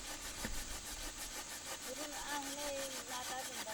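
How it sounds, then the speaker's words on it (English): Bamboo pieces rubbed hard against each other to make fire in a Philippine jungle, a fast, rhythmic back-and-forth scraping that carries on steadily throughout, with a few faint voices in the background. "they began frantically rubbing the bamboo pieces together"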